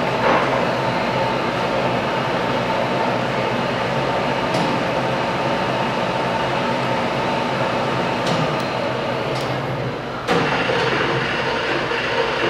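Steady mechanical drone of a Leblond 19.5 x 105 engine lathe with its spindle turning at 97 RPM, a continuous even whir with a few faint clicks and no speech.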